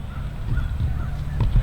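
Ducks in an acorn-rich woodland give a few honking calls at moderate distance, short nasal bursts that cluster toward the end of a brief moment.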